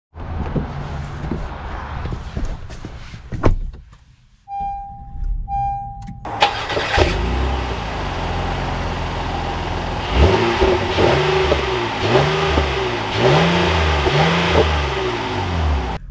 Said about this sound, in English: let's take this 3-inch lifted Ridgeline out and see how she drives